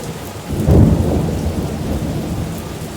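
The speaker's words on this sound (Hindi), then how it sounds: "ऐसी तूफानी बारिश यहाँ पर हो रही है" Heavy stormy rain pours steadily at a Houston bus stop while a deep rumble of thunder swells early on and fades into the constant downpour.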